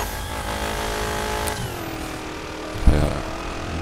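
A car engine, compared to a 1969 Shelby GT500, revs and accelerates loudly with rising harmonic tone, then shifts with a brief thump and pulls again.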